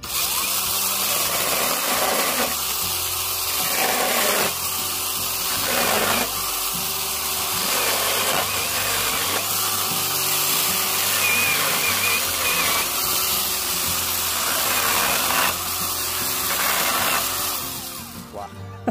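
Brushless VOTO battery chainsaw cutting through a round wooden log about 9 cm across, a steady loud high-pitched whine of the chain biting continuously through the wood with brief dips between passes, close up.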